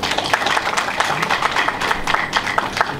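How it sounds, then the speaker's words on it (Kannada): Dense audience applause at a film audio launch event, a crowd clapping for the choreographer, steady and fairly loud with many overlapping hand claps throughout. "ಅವ್ರಿಗೊಂದು ದೊಡ್ಡ ಚಪ್ಪಾಳೆ ಪ್ಲೀಸ್."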